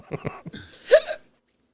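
A single sharp hiccup from a podcast host, close and fairly loud, follows a few brief vocal sounds, then silence.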